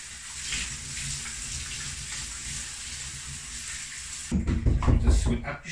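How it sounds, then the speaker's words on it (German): Tap water runs steadily into a kitchen sink while cured meat is rinsed, a continuous hiss that turns into louder, splashier gushing near the end. "Also, wenn wir das erst einmal ein bisschen abspülen,"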